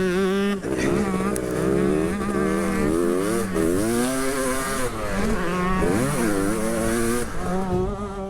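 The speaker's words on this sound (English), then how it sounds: "just look at the power of Kong down that final straight" A 33-year-old 125cc two-stroke motorcycle races flat out down a track straight, its engine droning loudly and continuously with rising and falling pitch as it shifts, close and steady throughout.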